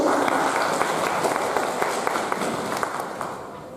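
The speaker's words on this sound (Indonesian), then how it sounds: "Mau tepuk tangan yang meriah dulu." Audience at an anti-drug event in Bantul applauds on request, a dense, steady wash of clapping at moderate volume that tapers slightly toward the end.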